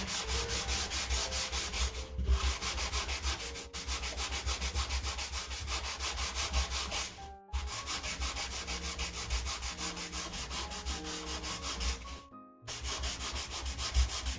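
Continuous rhythmic hand sanding on wood at a workbench, long back-and-forth scrubbing strokes with a few short pauses, close and steady.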